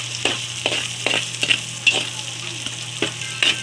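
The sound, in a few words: garlic and onion sautéing in a hot pan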